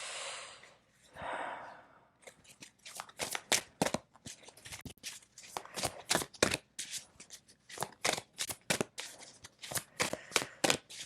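Tarot cards handled and laid down on a table: a rapid run of sharp, close slaps and shuffling flicks, preceded by a couple of soft breathy rustles, with no voice.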